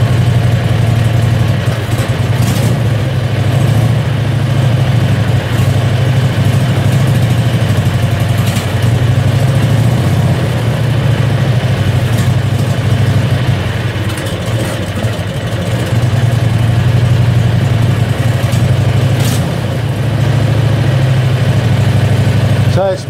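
A Predator 670cc engine with a diaphragm fuel pump idles while warming up, giving a loud, steady, low rumbling drone that continues without a break for more than twenty seconds.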